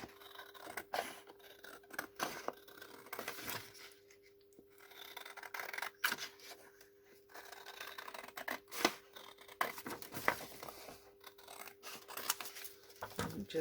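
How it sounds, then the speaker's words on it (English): Scissors snip and rasp through paper in quiet, irregular bursts, close by, with occasional soft rubbing and handling sounds. "we'll get my bigger scissors so that I can cut these straight"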